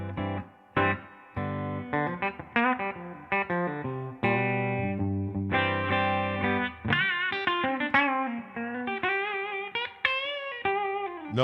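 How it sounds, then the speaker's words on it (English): An electric guitar through tube reverb plays a run of chords and single notes, with a warm, lingering reverb trailing each note and a slightly driven tone. "No, not digital reverb. It is tube reverb."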